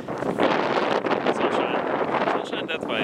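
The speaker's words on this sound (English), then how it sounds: "And it's windy, and it's really cold" Cold wind buffets and roars against the microphone in a constant rushing blast, loud and close, with no clear talk.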